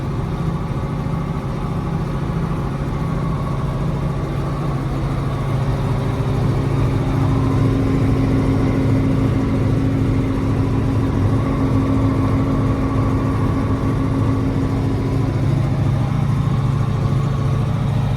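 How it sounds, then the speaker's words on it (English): Farm tractor with a slightly modified exhaust or muffler, used for harrowing pea stubble, runs steadily as a loud, close, deep continuous engine drone with no talk over it. "Slightly modified exhaust on it, that's for sure. Or muffler, to say, yeah."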